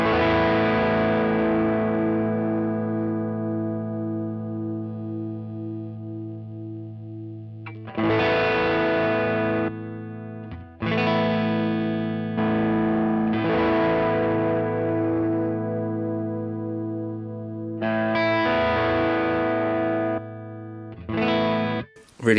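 Electric guitar played through a Line 6 HX Stomp overdrive set to higher gain, sustained distorted chords ringing out and decaying, then several strummed chords in a loose rhythm, loud and close with no talking.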